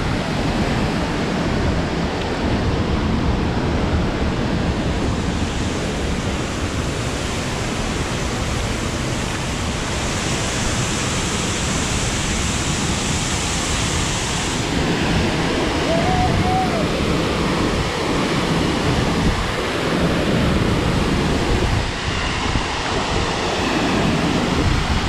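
A waterfall with a strong rushing current roars loudly and steadily throughout, a dense unbroken wash of water noise mixed with wind buffeting the microphone.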